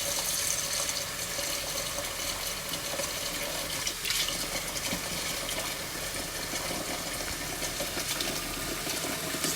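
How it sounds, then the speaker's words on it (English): Water running steadily from a kitchen tap into a pot being filled for pho broth, a constant hissing splash that stays even and fairly soft throughout, with no voices. "So let me fill the water up here."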